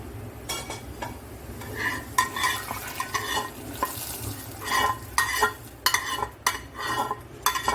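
Garlic and dried chili tempering poured into sour dal, giving a loud crackling sizzle with repeated bursts of stirring and utensil clatter against the pot, close up and without speech.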